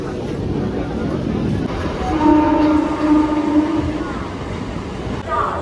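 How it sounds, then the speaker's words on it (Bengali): A train rumbles steadily nearby, with a sustained tonal horn-like drone sounding over the middle of the clip. "এখন ট্রেনটা ছেড়ে দিতে হলো"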